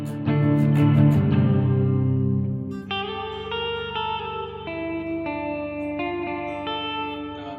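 A clean electric guitar for a shoegaze rig runs through a Ganymede reverb pedal. Ringing chords give way to a string of plucked notes, each trailing a long, washy reverb tail, with no voices.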